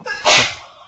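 One loud, close sneeze with a quick intake before it, then fading off, with no talking.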